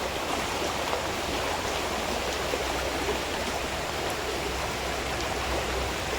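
Fast, swollen river water rushes loudly where two rivers join during heavy Konkan monsoon rain, a dense continuous roar heard close up and steady throughout, with no voices.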